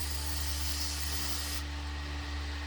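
Parts Master aerosol brake cleaner sprays into the heater core housing of a 1970 Plymouth Cuda, a steady close hiss over a low hum, with the brightest part of the spray cutting off partway through.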